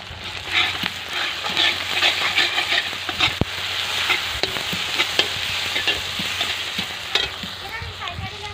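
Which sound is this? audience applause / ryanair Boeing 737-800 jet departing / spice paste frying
spice paste frying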